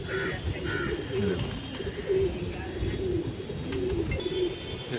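Pigeons coo repeatedly in soft, low, throaty calls close by, over background chatter and outdoor noise.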